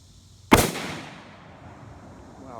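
A single sharp report from a Mossberg MVP LR .308 rifle at an outdoor shooting bench, loud and close, followed by a long fading echo and quiet background.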